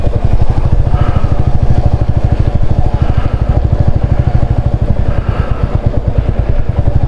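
A motorcycle carrying a pillion rider is ridden carefully along a muddy, slippery road in Sikkim. Its engine gives a loud, close, steady pulsing thrum with light rattles throughout.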